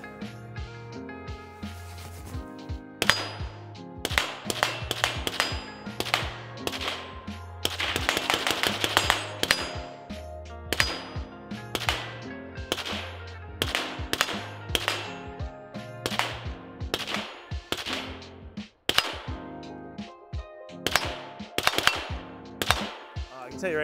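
Knight's Armament CQB 11.5 rifle in 5.56mm fired with a KAC suppressor outdoors, sharp loud cracks in single shots and quick bursts, each trailed by a short echo, with pauses between strings.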